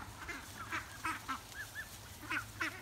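Ducks in a small flock quack and honk in short, scattered calls over about three seconds, close by and moderately loud, with a steady low background hum and no talking.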